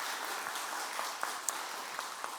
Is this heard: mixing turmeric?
no